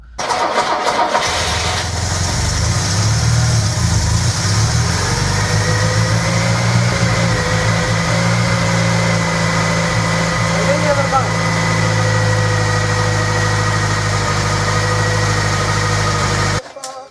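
A VAZ-21213 1.7-litre car engine, fitted in a VAZ-2106, turns over and settles into a steady, loud idle with a low rumbling hum and faint whine, running continuously until it cuts off at the end.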